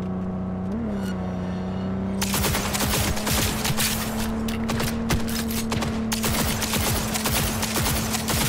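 Dense rapid gunfire in the game Cyberpunk 2077, a sustained burst of crackling shots starting abruptly and continuing loud and steady over a low engine-like hum.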